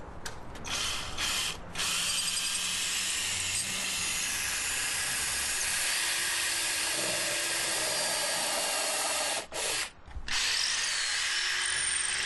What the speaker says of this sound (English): Now I'm installing the cross pieces with a stainless steel fastener.